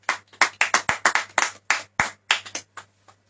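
A congregation claps together during a sermon, a quick rhythmic burst of about fifteen sharp hand claps over three seconds, slowing and fading out, nearby and without talk.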